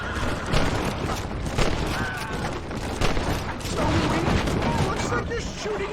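Dense Red Dead Redemption gunfire crackles in rapid, overlapping shots throughout, loud and busy, mixed with game sounds and voices.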